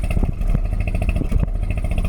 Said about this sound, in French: Regardez ce petit bruit du rotor.